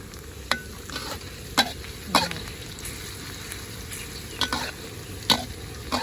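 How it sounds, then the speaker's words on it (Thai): Garlic stir-fries in a pan with a steady sizzle. A spatula scrapes and taps against the metal in scattered bursts, heard nearby with no speech. "ผัดกระเทียมให้หอม"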